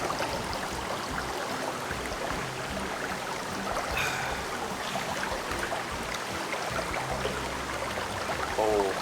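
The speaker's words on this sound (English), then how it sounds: "You guys back by the river." A river flows steadily beside an outdoor cooking spot in Jamaica, a continuous broadband wash of moving water with a faint splash near the end, no talk over it.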